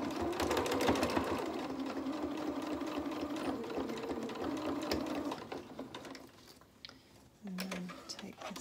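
A domestic sewing machine stitching a small doll's T-shirt dress runs in a fast, steady mechanical whir, then slows and stops briefly before a short reverse burst, close and clear.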